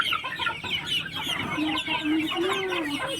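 Hens clucking on a poultry farm, several birds calling close by in a steady overlapping chatter, with one longer drawn-out call rising near the end.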